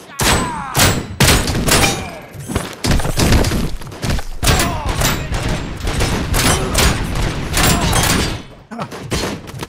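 Sustained heavy gunfire fills a firefight in the RoboCop: Rogue City video game. Loud, dense volleys of shots and impacts run almost unbroken, with only brief gaps.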